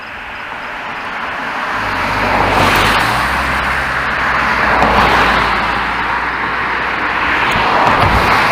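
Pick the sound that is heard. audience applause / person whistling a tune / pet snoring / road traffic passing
road traffic passing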